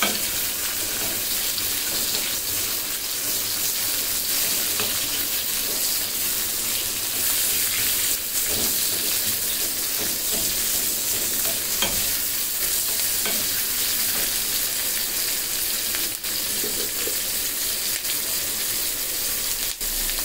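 Onion sizzling steadily in hot oil as it is stirred in a pan for a spicy broiler chicken dish, a continuous close frying hiss with scrapes of the spoon and no voices.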